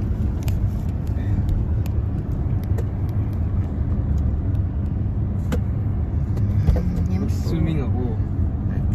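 Road traffic with passing cars in Texas: a steady, loud rumble of engines and tyres rolls on throughout, with faint muffled voices mixed in.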